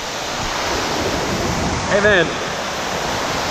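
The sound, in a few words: waterfall at Matigol Falls, North Cotabato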